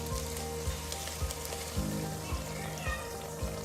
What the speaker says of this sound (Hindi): अब साग के ऊपर तड़का डालेंगे